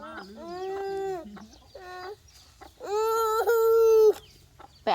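Chickens cluck and squawk loudly up close in a few drawn-out, nasal bursts separated by short pauses.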